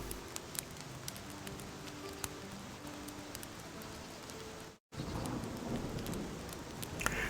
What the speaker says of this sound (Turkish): Yağmur da yağıyor aslında.